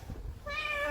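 A single short street cat meow rises in the second half, fairly faint, after a moment of low background noise.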